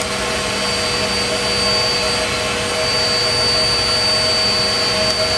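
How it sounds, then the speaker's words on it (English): The four jet engines of the Avro Vulcan XH558 run on the engine test pan, heard from the cockpit as a loud, steady roar with a constant high whine, unbroken throughout. "Request four engine high power run on engine test pan."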